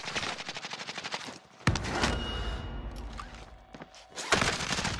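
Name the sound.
gunfire in a video game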